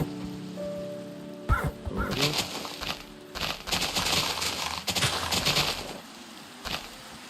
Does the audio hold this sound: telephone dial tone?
no